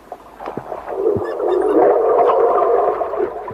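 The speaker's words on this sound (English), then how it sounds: "botos communicate with a series of barks and yaps" A pink river dolphin, or boto, calls underwater in tea-colored Amazon water, giving a loud, close, drawn-out burst of low barking and buzzing tones with scattered clicks, heard alone.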